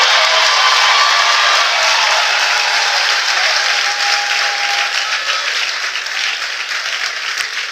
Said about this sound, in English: If you want to stand up and have applause